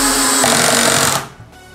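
A Bosch GSB 185-LI cordless drill driver drives a screw into wood, its motor whirring loud and steady for about a second before cutting off abruptly, then a short faint tail.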